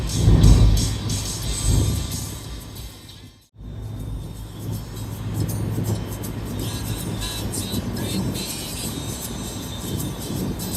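A 29-year-old BMW car driving on a road trip, giving a steady, moderately loud rumble and road noise inside the car with a brief dip partway, and no speech.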